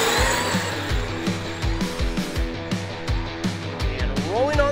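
A Traxxas X-Maxx RC monster truck's electric motor revs repeatedly on the throttle, with a whining pitch rising and dropping in quick bursts and a brief tire chirp near the end, loud and close.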